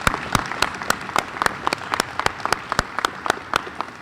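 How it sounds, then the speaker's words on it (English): An audience at a Dean's List reception applauds, with distinct individual claps popping out over a steady bed of clapping, moderately loud and close, with no voices. "Why don't we give a collective round of applause to all the giants of all our students on the Dean's List."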